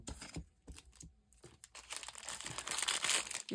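Scissors cut through fabric in a run of crisp snips and rustling crinkles, close and moderately quiet, growing busier and denser toward the end.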